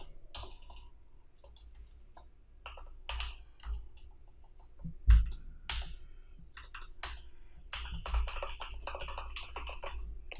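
Typing on a computer keyboard while writing HTML and PHP code, a steady run of quick, light key clicks with short pauses and a few louder keystrokes, close and alone.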